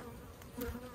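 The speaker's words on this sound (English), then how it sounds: "See, there's quite a bit of bees in here." Honey bees in a small nuc hive give off a faint, continuous buzzing hum close by, with a brief louder swell partway through and no talking.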